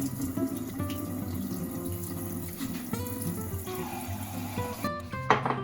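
Water running steadily from a tap and filling a container, a continuous splashing gurgle close by that stops abruptly near the end.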